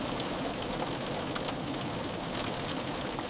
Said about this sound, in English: Outside, the rain begins.